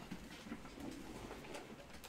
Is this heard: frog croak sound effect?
no